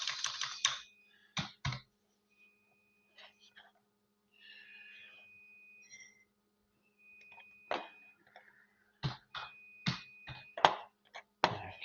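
Computer keys clatter in several quick clusters of presses with quiet gaps between them, close and distinct over a low electrical hum, while a soft voice murmurs faintly at times.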